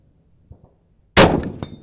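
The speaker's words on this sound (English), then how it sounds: "Whoa, you got the gong at the bottom in the center." A Lee Enfield .303 rifle bullet strikes a steel gong target, a single sharp metallic clang with a ringing tail and a faint second tap, after near silence.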